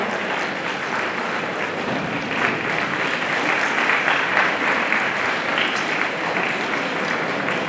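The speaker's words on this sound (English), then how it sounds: "A big round of applause." A large crowd claps continuously, a dense, even wash of applause that holds steady for several seconds.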